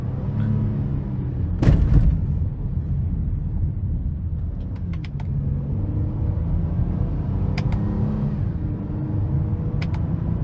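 A 2018 Honda Odyssey Touring with about 95,000 miles accelerating from inside the cabin, a steady low engine and road rumble with light shifts in pitch and a few faint clicks over it.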